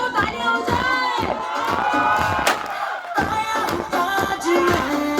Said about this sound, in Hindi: और लड़के वालों तालियां हो जाए.